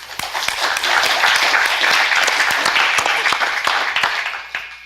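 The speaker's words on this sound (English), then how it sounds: "A round of applause for everyone involved, please." Loud, sustained applause from the audience at a Washington, D.C. policy event on food aid reform, with many hands clapping close and evenly for several seconds before fading at the end.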